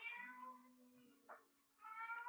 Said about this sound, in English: the silence was broken by the faint crying of a cat.